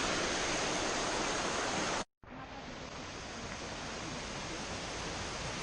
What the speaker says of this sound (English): And here you can see the babbling brook.